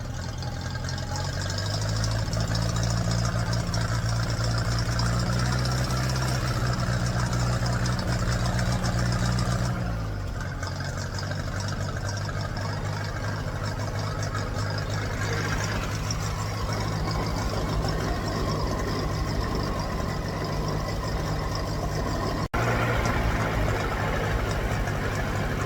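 A Ferguson TED 20 tractor engine, fresh from an oil and filter change, revs up for about ten seconds and then settles into a steady, loud idle with a low, throbbing rhythm, close and constant with no talking.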